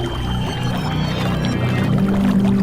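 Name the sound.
water flowing sound effect in horror story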